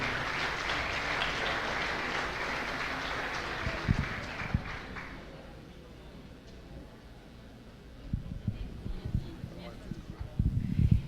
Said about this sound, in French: Je pense une bonne main d'applaudissement pour Docteur Mehdi Kedid